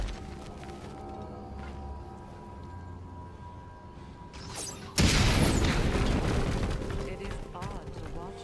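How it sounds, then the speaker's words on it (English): A sudden, loud video game explosion bursts out after several seconds of low ambient hum, then rumbles and slowly fades while staying heavy to the end. "See that explosion? Setting it off could help."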